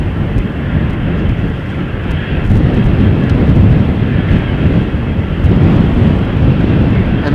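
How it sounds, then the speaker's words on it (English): A KLM Embraer 190 jet passes at Amsterdam Schiphol Airport with a loud, broad engine roar that rises and holds steady, mixed with wind rumble and no speech. "at the moment coming this way is an Embraer 190 from KLM going to Nantes in France"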